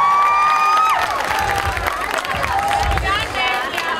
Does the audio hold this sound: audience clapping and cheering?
yes